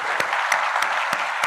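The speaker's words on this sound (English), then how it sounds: "give all of them a round of applause" An audience at a corporate event gives a round of applause, a steady patter of clapping with a few sharper, louder claps standing out at regular intervals.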